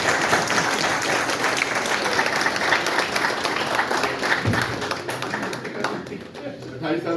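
Audience at a Lahore chapter get-together of the Bhakkar Azaad group clapping loudly and continuously, a dense patter that thins slightly toward the end.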